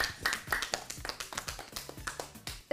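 Studio audience clapping for a young girl on a children's show: a short burst of quick, irregular hand claps, moderately near and fairly faint, with no talking.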